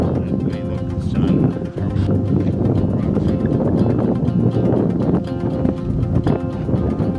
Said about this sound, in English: That's really bad, the wind.